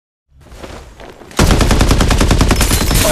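Rapid automatic gunfire in the video game Farlight 84 bursts in after a quieter lead-in and keeps going as a loud, dense stream of shots, close and unbroken.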